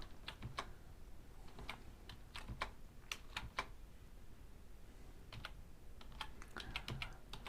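Quiet, close clicks of keys on a computer keyboard come in irregular bursts with short pauses between.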